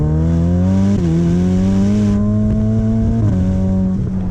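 A Ferrari F8 Spider's twin-turbo V8 revs through its exhaust, a loud, steady harmonic drone that swells and dips with throttle blips near one and three seconds, close by and alone.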